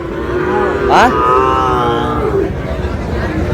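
A Sahiwal bull lets out a deep, drawn-out moo nearby, over a busy background of crowd chatter at a livestock market.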